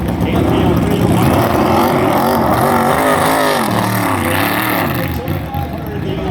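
A NASCAR Cup Series race car on the oval at Daytona in a Duel qualifying race, its engine a loud, steady roar with rising and falling pitch sweeps, overlaid by a voice talking throughout.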